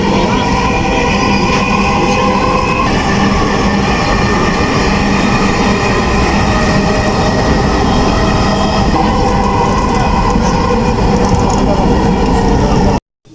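A Dhaka metro train runs at speed with a loud, steady rumble and hum from inside the carriage, while an onboard announcement plays over it, stopping abruptly at the end.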